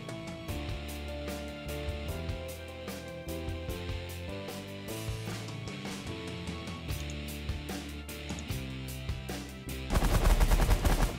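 Rapid bursts of gunfire crackle through The Last Federation space strategy game over a layered musical score, the shots building into a dense, loud barrage near the end.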